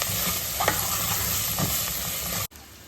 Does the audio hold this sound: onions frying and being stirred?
yes